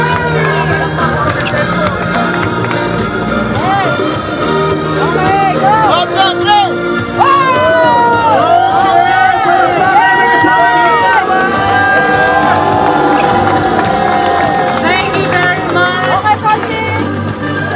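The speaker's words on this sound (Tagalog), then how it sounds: "Palakpakan Pasig City!" A large crowd in Pasig City applauds and cheers loudly throughout, with dense clapping, whoops and shouts building in a sustained roar, while a voice speaks over it.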